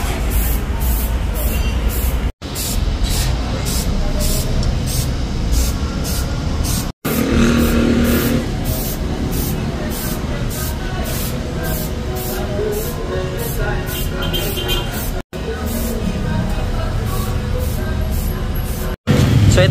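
A Rusi TC 150 motorcycle with a modified, loud exhaust pipe starts and then revs hard and close for a sustained stretch, with a few brief cutoffs, under occasional voices.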